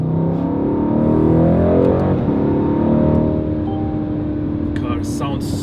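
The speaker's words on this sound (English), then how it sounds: "Car sounds so aggressive, super planted, even tail happy, easily tail happy" A 2019 Mercedes-AMG C63 S Coupe facelift accelerates in manual mode, its engine note loud and steady from inside the cabin as it pulls through the gears.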